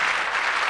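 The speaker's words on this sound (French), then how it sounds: "merci de la qualité de vos applaudissements" Audience applause at a live comedy stage show, a steady dense wash of clapping from a crowd filling the short stretch, no voices over it.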